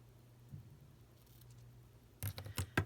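A few quick, crisp snips of ribbon scissors cutting ribbon close by near the end, after quiet handling sounds over a faint low hum.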